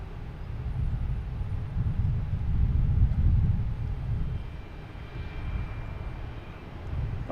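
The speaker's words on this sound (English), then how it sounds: "now we have a Delta lined up on 33 left, flight 2222, and A321 heading to Detroit" A Delta Airbus A321 jet on runway 33 left at Boston Logan Airport gives off a distant, low engine rumble that swells to a broad peak midway and then eases back to a steady hum.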